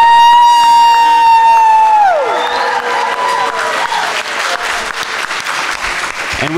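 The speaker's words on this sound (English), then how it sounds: "let's give another round of applause to Sunsara Taylor" An audience applauds and cheers after a speech, with loud sustained clapping while a whooping voice and tonal sounds rise and fall over the opening seconds.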